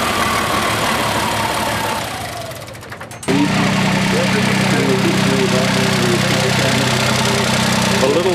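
An old tractor engine runs at a rally, chugging and knocking steadily. It dips and drops out for a moment, then comes back at a strong, loud idle.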